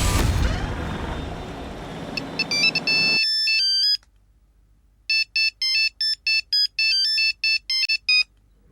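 Phone ringtone sounding after someone places a call, a bright melodic electronic tune in repeated short bursts, loud and alone after a noisy opening.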